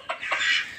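Hens cluck briefly near a brood of chicks, a couple of short soft calls followed by a brighter sustained chatter, close and alone without talk.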